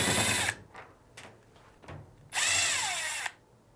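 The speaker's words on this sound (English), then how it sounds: "we'll now remove the two screw covers and the two screws" A power drill whirs in two loud bursts as it backs out screws from the top panel of a Fisher & Paykel clothes dryer, with soft clicks and handling noises in between.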